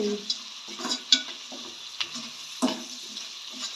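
Onions and garlic fry gently in a pan, a soft sizzle broken by intermittent spoon scrapes and light clinks against the metal, close and fairly quiet.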